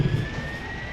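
A jet aircraft roars as it takes off in the PS1 game 007 Tomorrow Never Dies, a brief steady engine rush with a thin high whine over a low rumble.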